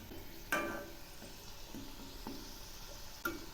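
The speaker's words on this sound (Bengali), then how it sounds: "এক পাশ ভাজা হয়ে গেছে, এখন আমি উল্টে দিচ্ছি।" Egg samosa shallow-frying in a pan, a soft steady oil sizzle with a few light clicks of a utensil turning the pieces, no voices.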